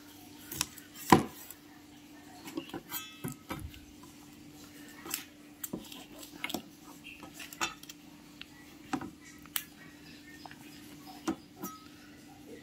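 A knife taps and cuts through tofu against a board in scattered, irregular strokes, with faint clinks of utensils over a quiet background hum.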